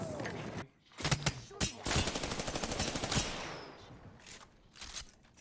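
Automatic gunfire in Apex Legends, with rapid bursts of fast, even shots in quick succession, then fainter trailing pops, loud and close.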